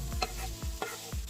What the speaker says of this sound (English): While Litty Shay is stirring the food